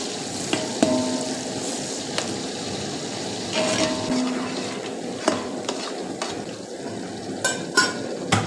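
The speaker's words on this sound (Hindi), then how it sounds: "ऑयल गर्म हो चुका है, उसमें मैं शामिल कर रहा हूँ प्याज" Large-cut chopped onion fries in hot cooking oil for Hyderabadi chicken yakhni pulao, a soft steady sizzle punctuated by sharp clinks and scrapes of a utensil against the pot, close by and without talk.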